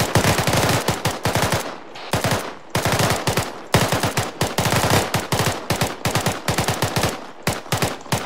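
Live-fire gunfire during military squad formation training, with rapid automatic bursts repeating in close, loud volleys and only brief gaps between them.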